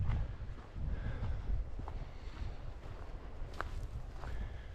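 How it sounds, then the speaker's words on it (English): Steady wind gusting outdoors on a cool day in the 50s, a continuous low rumble buffeting the microphone, with a few faint scuffs like footsteps but no talking. "It's just that you can hear that wind blowing here."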